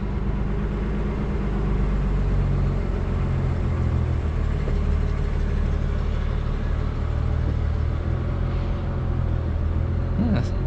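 A 1941 Lincoln car engine idling, a steady low rumbling drone that holds even and continuous throughout, close and fairly loud.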